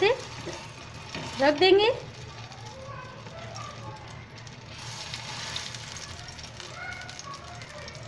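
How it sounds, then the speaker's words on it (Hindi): Bread rolls shallow fry in oil on a low flame, giving a soft, continuous sizzle in the background while a person talks over it. "तो हम इसे शैलो फ्राई कर रहे हैं"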